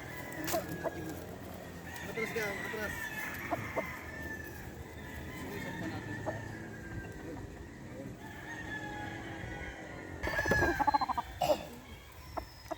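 Chickens cluck and a rooster crows amid a busy outdoor background at a game farm, with a burst of louder clucking toward the end, moderately distant.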